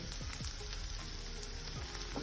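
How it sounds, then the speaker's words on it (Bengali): Sandwich stuffing fries in a pan with a constant close sizzle, while scattered scrapes and taps from stirring rise over the hiss. "তো এবার এগুলোকে ভালো করে নাড়িয়ে নেব।"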